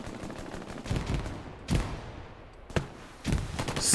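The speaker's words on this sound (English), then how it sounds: "Very nice shooting." Gunfire in an 18-versus-18 Hell Let Loose World War II infantry match: dense crackling rifle and machine-gun fire over a steady battlefield rumble, with several sharper, louder shots and bursts standing out at intervals.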